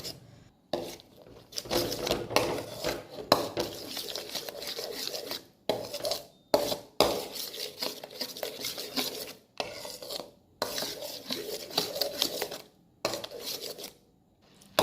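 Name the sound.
stirring almond halwa with saffron in a pan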